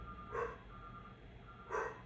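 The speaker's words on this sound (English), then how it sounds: "There's some kind of truck driving by with making that beep sound." Truck reversing alarm beeping twice at a steady interval, faint and somewhat distant, with a low rumble underneath.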